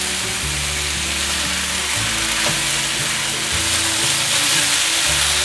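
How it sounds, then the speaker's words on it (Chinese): Cucumber chunks stir-fried with shiitake mushrooms and other vegetables in a wok for a vegan dumpling filling, giving a steady, close sizzle over a low, humming background without a pause. "最后放入大黄瓜， 把所有食材炒均匀"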